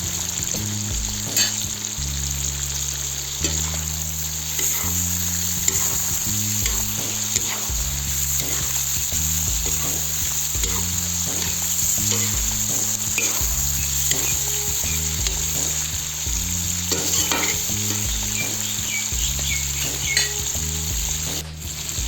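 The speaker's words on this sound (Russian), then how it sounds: "Морковь я обжариваю около 5 минут." Diced carrots for Uzbek plov sizzle steadily in a hot pan, with occasional stirring scrapes and clinks throughout, close and continuous.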